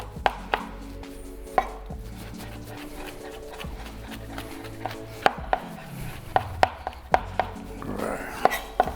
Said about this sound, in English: Chop the ends off here. Get that out of there. Garlic always gives everything a great flavor.